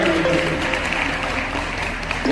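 Audience at a Ladli Lakshmi festival event applauding loudly, a dense, continuous clapping that fills the whole stretch with some crowd noise underneath.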